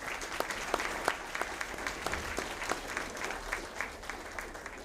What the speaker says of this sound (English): Please give Larry and his staff a round of applause